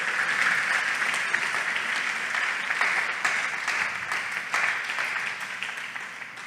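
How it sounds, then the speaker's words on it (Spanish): A church congregation applauds together, dense sustained clapping that fills the space at steady loudness and tapers slightly toward the end, with no speech over it. "¿Cuántos le pueden dar ese aplauso al Señor en esta hora?"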